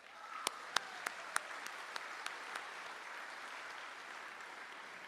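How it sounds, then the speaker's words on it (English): A crowd at a high school graduation ceremony applauds steadily for several seconds, with a few sharp, louder claps standing out near the start before the clapping evens out. "How about one more round of applause for the JM Orchestra?"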